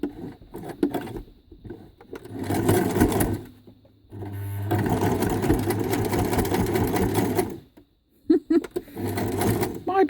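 A domestic sewing machine stitches through thick scrap-fabric rope in several bursts, loud rapid motor whirring that starts and stops with short pauses between runs.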